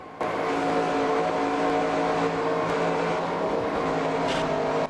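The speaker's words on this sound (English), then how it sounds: "you can hear the car actually, the tires just not be able to grip the track" A race car engine in NASCAR Racing 2003 Season drones steadily at high revs, with a rough, scrubbing edge of tires losing grip, continuous and close with no talking.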